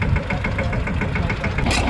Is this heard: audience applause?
no